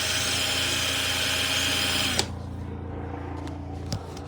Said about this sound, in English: 1 second, I'll just get it out the drill.